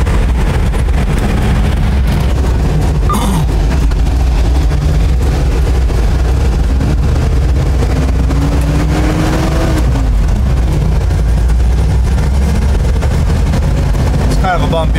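A 1973 International Scout II drives down a bumpy old road in fourth gear, its engine droning loudly under heavy cabin rumble with scattered rattles and thumps, and a voice faintly audible at times.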